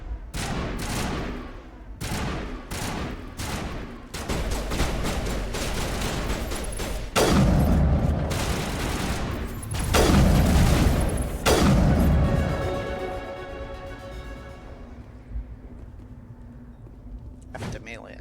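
Gunfire from the video game Mass Effect Legendary Edition, bursts of shots and booming impacts in irregular clusters, loud and near, with a voice talking over parts of the exchange.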